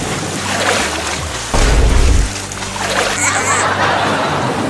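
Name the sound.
splashing in water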